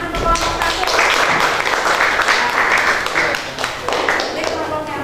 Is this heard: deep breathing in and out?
no